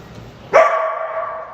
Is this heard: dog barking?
yes